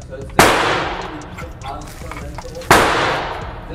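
Two sharp Ruger LCR revolver shots at an outdoor shooting range, loud close reports a couple of seconds apart, each followed by a decaying ring amid background range noise.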